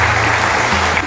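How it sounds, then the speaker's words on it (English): An audience claps for the St. Thomas Aquinas Senior High School team at a school quiz show, with a brief, dense burst of loud applause and a low hum beneath it. "Please a round of applause for them."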